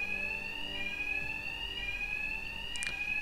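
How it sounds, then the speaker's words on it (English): Bank alarm ringing in Batman: Arkham Knight, a loud, steady high-pitched electronic tone sustained without a break, with a faint scuff near the end and no talking. "My attacks will be covered by the noise of the alarm."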